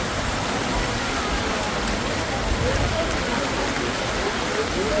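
Steady rain falls in Darjeeling, a constant broadband hiss with no pauses. Faint crowd sounds blend in underneath.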